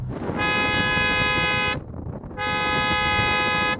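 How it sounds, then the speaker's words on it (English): Porsche 911 GT2 RS horn sounding two loud, steady blasts close by, each lasting over a second with a short gap between, no talk over it. "Let's hear the German horn."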